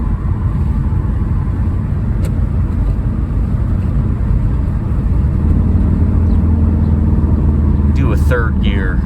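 The turbo engine of a 2005 Subaru accelerates in third gear at quarter throttle with a loud, steady droning rumble that slowly climbs in pitch. It sounds close, as if heard inside the car.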